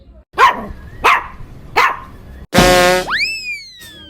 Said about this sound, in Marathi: त्याचं नाव कुत्रा नाही, सिम्बा आहे.